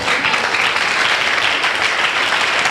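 Congregation applauding during a church service, a dense, steady wash of many hands clapping together, loud and continuous throughout with no pauses.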